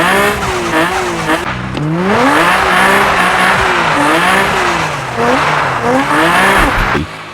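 Nissan GTR R33 with its stock engine drifting in the mobile game Car Parking Multiplayer, a loud, steady revving engine whose pitch rises and falls as it drifts, with squealing tires throughout.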